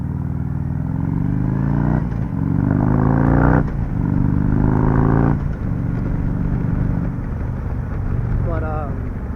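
A 2016 Harley-Davidson Street Glide with aftermarket handlebars cruises with a loud steady engine drone that rises through several gear shifts, heavy wind rumble throughout, and a rider talking over it.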